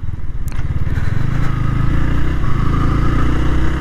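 A Yamaha R15 motorcycle engine starts up and settles into a steady, loud running rumble nearby, with a sharp start at the beginning and continuous engine drone throughout, no talking.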